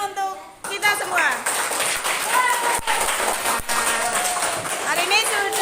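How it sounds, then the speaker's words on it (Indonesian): A classroom full of students clapping together for everyone, a brisk patter of hand claps running throughout with a teacher's voice speaking over it. "Kasih tepuk tangan untuk kita semua."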